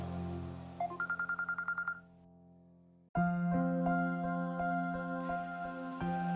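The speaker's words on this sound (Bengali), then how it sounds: "আমার ফোনটা বাজতেছে" A mobile phone rings indoors: a quick run of a dozen or so electronic beeps, a brief pause, then a loud, sustained melodic ringtone.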